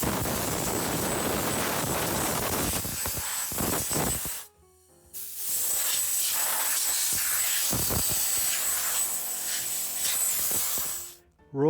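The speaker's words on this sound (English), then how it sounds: "fire up the compressor and we'll blast all this" Air compressor nozzle blasting dust out of a Yamaha HTR-3065 receiver, loud hissing bursts of spray broken by a brief pause and a longer second blast that cuts off abruptly.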